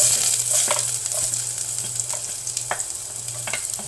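Ginger fries in hot oil for gobi manchurian, a continuous close sizzle and crackle with scattered soft pops over a faint steady hum.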